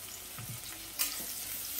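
Carrots, peas and capsicum sauté in a pan with a soft, steady sizzle, a couple of low stirring knocks and one sharper scrape, fairly quiet and close.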